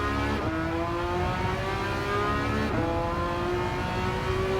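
A Porsche race car in Gran Turismo 7 revs hard and accelerates through its gears. The engine note climbs twice in steady rising sweeps, loud and close, with no voices over it.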